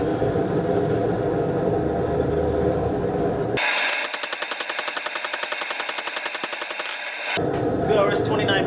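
Rapid, evenly spaced hammer blows ring out for about three seconds as a steel knife blade is forged into shape, loud and metallic against a steady background hum before and after.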